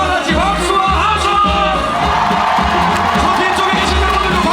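A festival crowd at the Mungyeong Apple Festival claps and cheers loudly and continuously over a thumping concert backing track, with scattered whoops rising above the din.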